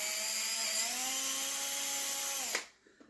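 A power drill runs steadily at speed, boring a hole for a knob through a painted wooden drawer front, its whine holding for over two seconds before cutting off abruptly into quiet.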